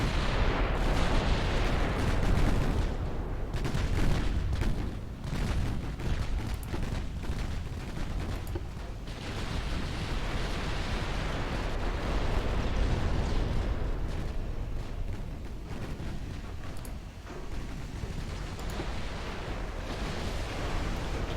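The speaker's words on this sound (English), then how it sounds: "Torpedo detonation" Torpedo detonations and naval gunfire in Ultimate Admiral Dreadnoughts rumble for a sustained stretch, a dense, loud stream of booming blasts and bursts with no pause or talking.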